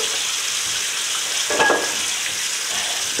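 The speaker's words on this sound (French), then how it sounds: "la pièce on va la mettre dans l'évier, je vais faire couler de l'eau chaude" Hot water runs from a tap into a sink holding a spray-painted part, a steady broadband hiss with a brief louder splash midway.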